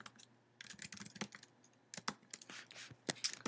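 Quiet, close clicking of a computer keyboard as code is typed for a Django tutorial, a steady stream of light keystrokes with short pauses and no voices.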